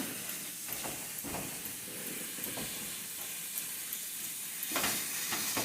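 Ground beef sizzles in a pan on lowered heat while being broken up, a steady soft hiss with occasional scraping taps from the utensil.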